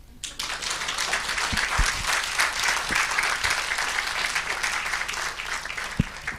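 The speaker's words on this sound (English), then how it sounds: "Please, can you clap for him?" Wedding guests applauding a mentor at a church solemnization of holy matrimony, a dense sustained round of clapping from a large crowd that starts abruptly and continues steadily.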